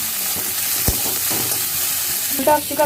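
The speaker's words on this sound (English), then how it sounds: "And then saute it very well." Grated potatoes, carrots and other vegetables sizzling and frying in a pan while being stirred, a close steady crackle with a sharp scrape of the spoon against the pan.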